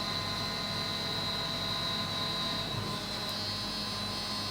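A CNC machine cuts bookshelf parts while air blows debris out of the hole, giving a steady high whine over a constant rushing hiss and low hum, fairly quiet and unbroken.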